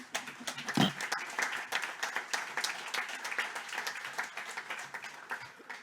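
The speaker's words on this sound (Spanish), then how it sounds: "Quiero que recibamos con un aplauso a Ricardo Alarcón" An audience at a business event applauds to welcome a guest speaker, with sustained, fairly distant clapping that has a few louder individual claps and a faint voice underneath.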